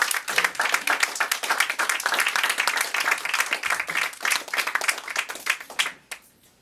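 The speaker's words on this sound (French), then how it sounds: "On l'applaudit, mesdames et messieurs." Warm applause from an evening literary audience for Québécois poet Louise Dupré, dense overlapping clapping that stays strong and even, then dies away quickly at the very end.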